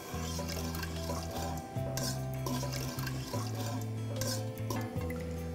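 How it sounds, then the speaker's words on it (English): Piccalilli mixture being stirred gently in a pan as it is brought to the boil, soft liquid swishing and faint utensil scrapes under a steady low background hum. "Now what we need to do is stir it gently and bring it to the boil."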